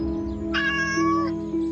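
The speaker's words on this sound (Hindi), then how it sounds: "वो बिल्ली देख रही हैं आप?" A black cat gives one drawn-out, close meow that rises and fades over a steady background hum.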